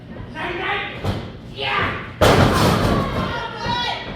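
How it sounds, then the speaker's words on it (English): A wrestler slammed down onto the mat in a wrestling match, a single heavy thud midway through, loud and close under continuous excited commentary. "Tim slams Blade to the mat."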